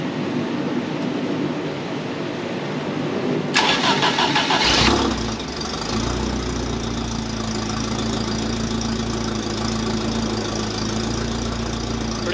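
Fiat X1/9 engine, unused for about a week, cranks briefly and then catches, settling into a steady, slightly rough idle that continues close and clear with no talking.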